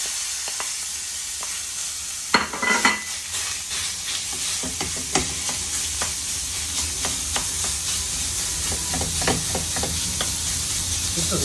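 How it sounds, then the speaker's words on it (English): Pork sizzles steadily in a hot pan for a Thai pork basil dish, a continuous close crackling hiss with occasional sharper pops and stirring scrapes, no talking. "I always just sort of cook the pork separately in the pan"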